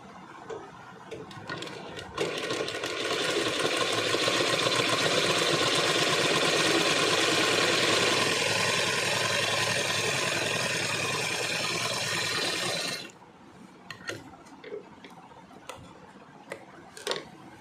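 A sewing machine stitches cotton fabric in one long, steady, fast run of about eleven seconds at close range, then stops, leaving faint clicks and handling noises.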